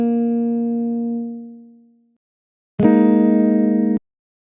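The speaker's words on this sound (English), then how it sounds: "When a real-life guitar instrument is played, it's typically strummed, so let's emulate that by staggering the start of the notes slightly" Electronic guitar instrument chords in a BandLab beat, note starts staggered slightly like a strum; one sustained chord fades out, then after a short gap a second chord rings steadily and cuts off abruptly.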